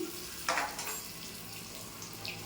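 Potatoes frying in a pan with turmeric, salt, mustard paste, five-spice and a dry chilli, giving a steady broadband sizzle with a brief louder burst of spatter near the start.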